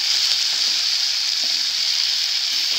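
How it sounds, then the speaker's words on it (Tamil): Steady, loud sizzling of tamarind and ginger sautéing in a hot pan, a continuous frying hiss with faint stirring underneath and no talking. "இப்போ புளி போட்டு நல்லா வதங்கிட்டோம்"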